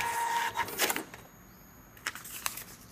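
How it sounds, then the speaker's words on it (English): An Epson TM82II receipt printer at a restaurant point-of-sale counter prints a receipt, giving short bursts of rapid mechanical chatter and a brief whine, with quiet pauses between the bursts, close and moderately loud. "And here I have the receipt printer."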